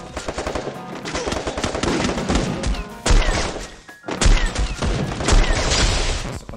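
Rapid bursts of automatic gunfire rattle loudly and close, with repeated volleys and heavy thuds, pausing briefly before another sustained barrage.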